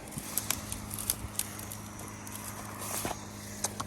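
A horse walks nearby along a roadside, its hooves clip-clopping in an uneven series of sharp taps over a quiet background hum.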